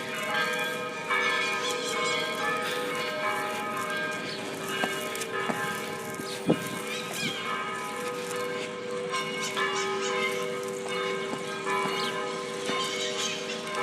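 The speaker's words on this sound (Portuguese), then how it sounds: "O sino da nossa basílica" A basilica's church bell rings with sustained, ringing tones that overlap and linger, repeated strikes carrying across an open outdoor space with faint background noise and no talk.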